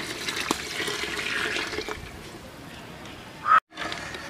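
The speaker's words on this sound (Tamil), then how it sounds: "இப்போ தண்ணி சேர்த்துக்கலாம்." Hot water is poured into a large pot of rice for ghee rice, a splashing gush that runs for about two seconds, then settles into quieter trickling and ends with a brief knock.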